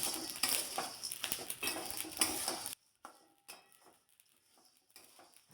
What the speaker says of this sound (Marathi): हे सगळं अजून एखादा मिनिटभर व्यवस्थित चांगलं मंदाचेवरती परतून घ्यायचं आहे